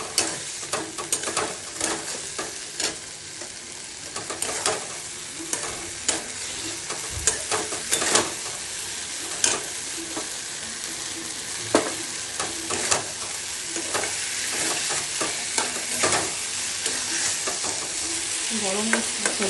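Poppy seed paste frying in a pan with ridge gourd: a constant close sizzle under frequent scraping and clacking strokes of a spatula stirring, loud and busy, no talking.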